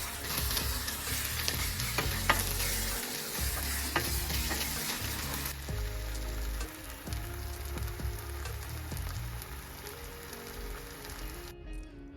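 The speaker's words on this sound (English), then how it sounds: "just add sugar and allow it to simmer for another maybe 2 to 3 minutes on a low heat" Tomato gravy with sugar bubbles and sizzles steadily in a pot on low heat, with soft stirring scrapes and small pops running throughout and no voices.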